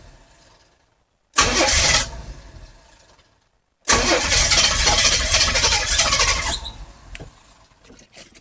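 An old car that has sat in a field, with a loose squealing fan, cranking and catching in two loud bursts separated by silence, the second settling into a rough running idle.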